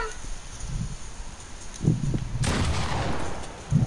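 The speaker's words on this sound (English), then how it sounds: "Shoot him!" Gunfire in the video game Fortnite: a loud, sustained burst of shots erupts midway, preceded by scattered thumps and rustling game noise, with a steady background din throughout.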